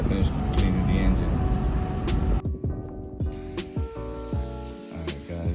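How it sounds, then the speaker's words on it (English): An aerosol can of engine degreaser hisses steadily as it is sprayed over the engine of a 2016 Fusion with a 1.5-litre turbo. The spray stops about halfway, followed by scattered clunks and a humming tone. "degreasing the engine"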